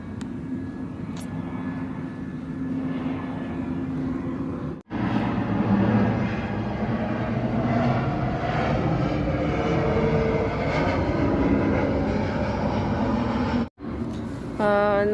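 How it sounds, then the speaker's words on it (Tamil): An airplane passes overhead with a loud, continuous broadband engine roar that swells and persists for many seconds outdoors, briefly cut off twice. "ஸோ ஃப்ளைட் வருது, உங்களுக்கு காட்டுறேன்."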